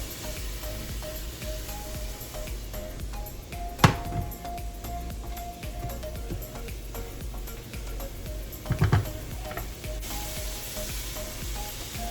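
Onions and zucchini sizzle steadily in a frying pan, a continuous close crackle with two brief clinks of a utensil against the pan partway through.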